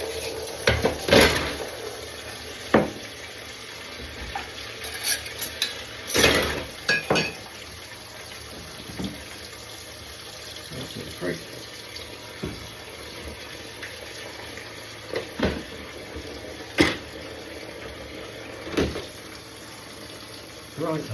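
Cutlery being washed in a kitchen sink, with scattered clinks and clatters of metal utensils against each other and the basin over a steady background hum, the sharp knocks arriving irregularly at close range.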